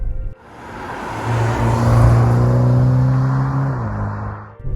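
A MINI Clubman JCW engine, 306 hp, in normal mode in city driving, hums steadily and fairly loud, pitch rising as it accelerates, then settling back down near the end.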